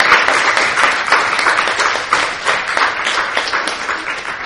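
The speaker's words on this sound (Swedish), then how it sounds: "En väldigt stor applåd till panelisterna." Audience applause for the panelists at a panel discussion, dense continuous clapping from a crowd at steady volume throughout.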